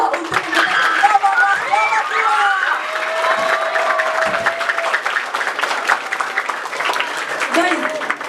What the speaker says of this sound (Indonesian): Beri tepuk tangan yang meriah untuk